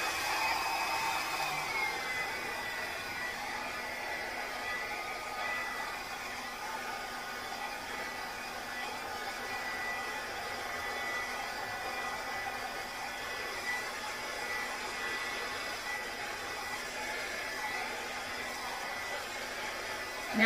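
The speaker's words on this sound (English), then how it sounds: "grab my blow dryer, which you guys know I always have handy" Blow dryer blowing acrylic paint across a canvas during a spiral pour, a steady close hiss of rushing air that continues unbroken for about twenty seconds.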